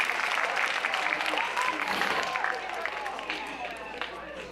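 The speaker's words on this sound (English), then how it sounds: "Let's give her a round of applause." An awards ceremony audience claps in sustained applause, a dense crowd rattle that stays steady before easing slightly, with talk mixed in.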